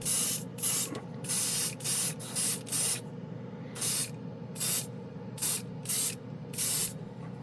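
An airbrush sprays chrome paint, then gold, onto a resin-cast skull in a run of about a dozen short, even hissing bursts, close and clear with brief pauses between.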